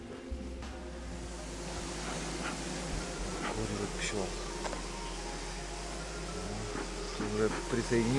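Honey bees buzz steadily around a hive outdoors during honey collection, a dense continuous drone close by with brief background voices.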